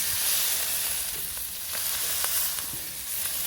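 A steak sears in a cast iron skillet just after flipping, giving a close, steady sizzle with light crackles and occasional spatters and no one talking.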